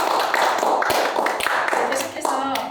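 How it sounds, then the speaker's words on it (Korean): Audience applause at a Korean lecture on impact investing, a steady crackle of many hands clapping close by that carries through the whole stretch, with brief voices mixed in. "다시 한번 박수 부탁드립니다"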